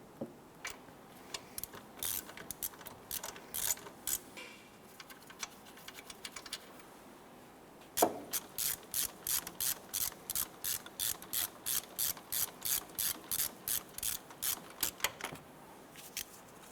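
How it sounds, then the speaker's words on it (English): Hand ratchet spinning out wheel hub bolts from the back of a steering knuckle on a Nissan Versa, scattered clicks at first, then a steady fast run of close ratcheting clicks. "Let's go ahead and remove those bolts the rest of the way out of the back of the knuckle."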